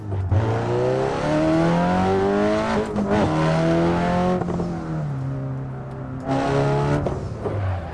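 In Assetto Corsa's Shutoko highway traffic mode, a car overtakes slower vehicles. A loud engine drone rises through repeated gear shifts with brief tire squeal, drops off for a moment, then picks up again.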